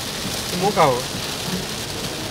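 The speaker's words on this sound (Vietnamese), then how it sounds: "Mưa quá nhà." Heavy rain pours steadily on a vehicle driving up toward Mường Lát in hilly terrain, a dense constant hiss while someone speaks briefly over it.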